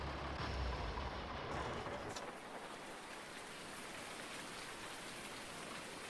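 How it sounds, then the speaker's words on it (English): Rain falls steadily in Farming Simulator 19, a soft, even, continuous patter, with a brief engine-like hum and rumble early on before the rain carries on alone. "rain, and rain."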